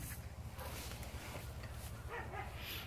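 Sled dogs at a dog-sledding kennel yip and bark in short, scattered bursts, moderately near, over a steady low rumble of background noise.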